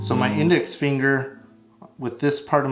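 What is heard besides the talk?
No everyday noises stand out.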